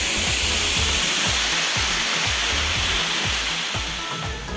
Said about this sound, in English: we in Irenggolo Waterfall